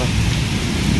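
A brief burst of heavy rain in a windy Kalahandi thunderstorm, a loud, dense wash of falling water with a low rumbling undertone, steady from start to end.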